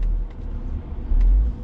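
A car rolls slowly through an industrial zone near an engine factory, its low engine rumble swelling slightly toward the end of the short stretch.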